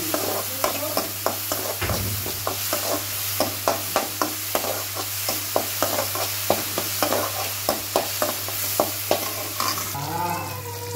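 Ginger garlic paste and ground spices fry in a pan while a spoon scrapes and stirs in a quick, steady rhythm of sharp taps over a continuous soft sizzle, with a low constant hum underneath.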